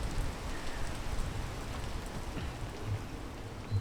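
Steady rain in the video game PEAK, a dense even hiss of falling drops on surfaces with faint low rumbling underneath, continuous and fairly quiet with no voices.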